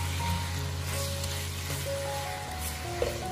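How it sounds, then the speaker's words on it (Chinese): Pork belly with bay leaves, star anise and cinnamon fries in a wok, giving a steady close sizzle under a low hum, with a brief scrape of stirring near the end. "接下来往里面加入两片香叶，一个八角，一指甲盖的桂皮，然后继续把香料炒香"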